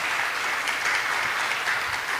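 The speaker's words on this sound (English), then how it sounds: "let's put a round of applause for Mahatma Prabhu" A devotee audience at a chanting workshop gives a brief, even round of applause, a soft steady wash of many hands clapping at a distance.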